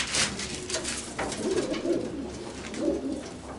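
Domestic pigeons cooing in a breeding loft, several soft throaty coos rolling close by over faint background rustle, no speech.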